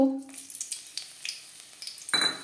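Dried red chillies, torn into pieces, fry in hot refined oil for Bengali-style radish greens, a sharp burst of sizzle at the start easing into soft crackle with light utensil clinks, then another louder sizzle near the end.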